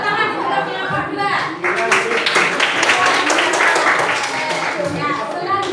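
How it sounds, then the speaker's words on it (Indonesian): Students in a school classroom clap for a presenting group, a sustained burst of loud hand clapping mixed with children's chatter and voices. "Tepuk tangan untuk kelompok 2."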